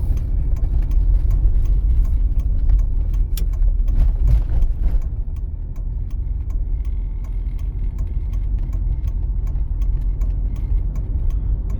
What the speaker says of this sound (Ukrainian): вже можна витискати щеплення, вмикати передачу і ми продовжуємо рух